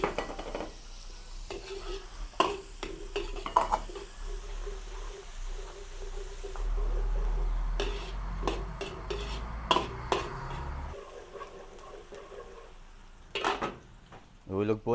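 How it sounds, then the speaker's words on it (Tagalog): Onion sautés with garlic in a pan for sinantomas pork ribs, a faint steady sizzle broken by scraping stirs and clinks of a utensil against the pan, with brief talk in places. "Pag mabango ng bawang, ay lagay na po natin yung ating sibuyas."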